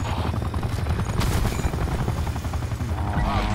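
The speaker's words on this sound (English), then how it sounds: "I'm gonna call in my chopper." A loud, steady helicopter rotor thump in a first-person shooter game, throbbing continuously and close, mixed with game effects and a brief flurry of sharp shots.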